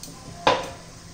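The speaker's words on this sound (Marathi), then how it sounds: "आता पुन्हा झाकण ठेवू 2-3 मिनिटं" A metal lid set back onto a cooking pot of grated bottle gourd sabzi gives one short clatter midway, close and fairly clear over quiet kitchen background.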